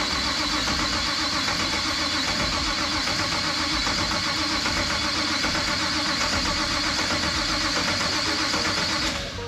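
A drift car's turbocharged engine cranks continuously to prime the turbo, a loud, steady, close churning drone that runs without a break and fades slightly at the end.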